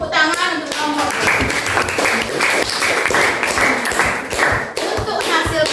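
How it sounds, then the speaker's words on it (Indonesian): A classroom of students claps for a student group, a dense, close burst of applause that holds steady throughout, mixed with some children's voices. "Tepuk tangan untuk kelompok Bella."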